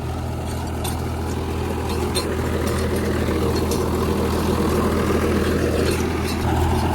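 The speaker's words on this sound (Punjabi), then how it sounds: "ਰੂਟਾਵੇਟਰ ਪੂਰਾ ਤੇ ਟਰੈਕਟਰ ਵੀ ਪੂਰਾ ਆ ਆਰਾਮ ਨਾਲ ਚੱਲਦਾ" A steady, loud Mahindra 275 DI tractor engine drones continuously pulling a rotavator, with low rumbling and mechanical clatter, running without pause throughout.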